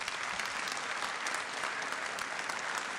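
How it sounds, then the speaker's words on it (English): Applause at a city council meeting, steady dense clapping from the audience filling the whole stretch at an even level, with no speech over it. "One more round of applause for Michelle."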